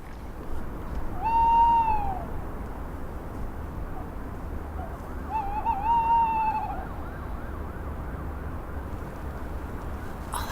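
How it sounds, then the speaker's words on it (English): An owl in a graveyard at night gives two drawn-out, wavering calls a few seconds apart over a steady background hum, fairly clear and without any voices. "That's a very handsome owl, I have to say."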